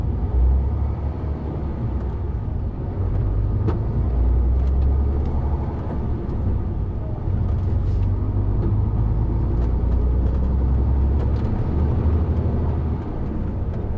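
A car rolls along a road in steady low engine rumble and road noise, heard from inside as a constant drone with faint creaks and no rise or fall, and no talking.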